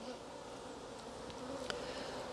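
Honeybees from a nuc being installed in a hive make a dense, steady buzzing hum, close and continuous, with a faint click or knock partway through.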